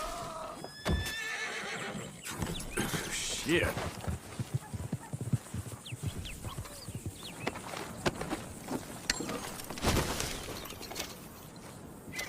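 In the Red Dead Redemption 2 video game a horse whinnies and its hooves clip-clop over uneven ground, with sharp knocks and clatters scattered among the steps and someone speaking briefly.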